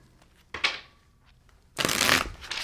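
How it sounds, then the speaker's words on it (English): Tarot cards being shuffled by hand at close range in two bursts, a short riffle followed by a longer, louder stretch of rapid papery flapping. "Let's do 2 more shuffles and then we'll start."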